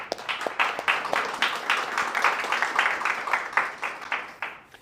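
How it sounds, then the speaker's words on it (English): Audience applause for the hosts at a tech meetup, a steady wash of many hands clapping at moderate volume for several seconds, thinning slightly toward the end. "we can give them a round of applause in case they're ever watching this"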